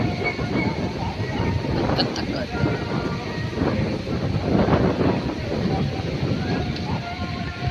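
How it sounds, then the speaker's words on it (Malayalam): Strong wind buffets the microphone in a continuous, rumbling roar with gusty swells that never let up. "ഭയങ്കര കാറ്റാണ്"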